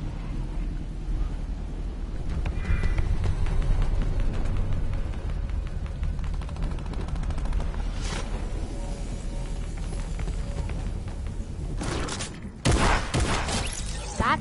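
Shotgun fire in Fortnite: a dense, continuous rumble of game gunfire and impacts, with a sharp burst of loud blasts near the end.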